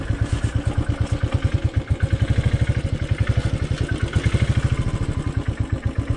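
A motorcycle rolls onto a shaky-looking bridge in Karbi Anglong, its engine throbbing in a steady, fast chug of close, loud pulses that barely waver for the whole stretch, with no voices.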